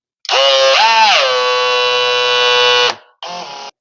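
A cordless power driver runs screws into the gate side of a gate catch: a loud, steady buzzing whine with a brief pitch swoop near the start, holding about three seconds, then a short second burst.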